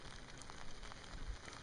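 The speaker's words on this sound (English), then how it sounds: "It's been really raining." Rain falling at Lake Nacimiento during a bass fishing outing; a faint, steady hiss of drops pattering on surfaces, with scattered soft taps and no speech.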